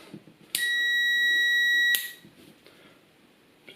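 Multimeter continuity beep while testing motorcycle switch wires: one steady high electronic tone lasting just over a second, close and clear, followed by quiet handling sounds.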